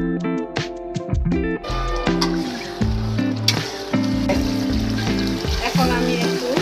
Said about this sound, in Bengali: এখন আমি একটু নেড়ে ফেলে দিচ্ছি ভালোভাবে যাতে নিচে না লেগে যায়